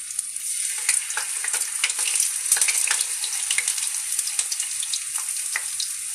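Green plantain slices fry in hot oil in a pan, a loud dense crackling sizzle with bursts of spattering pops, close and continuous with no talk.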